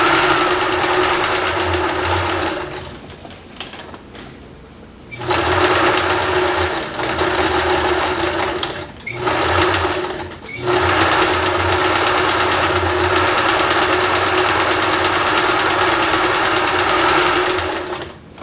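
A sewing machine stitches a sling purse made from recycled denim, humming loudly in long continuous runs broken by a few brief stops.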